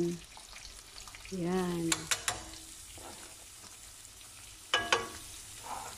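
Onion sautéing in a frying pan for salmon pesto spaghetti, a soft steady sizzle broken by a few sharp clacks of the utensil against the pan, while a voice talks faintly.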